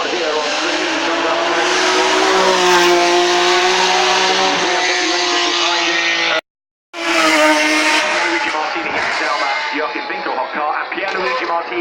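A BMW CSL sports racing car from a Group 5-style category at Goodwood roars loudly past, engine note rising and falling through gears, with a sharp cut partway through and talk over the top.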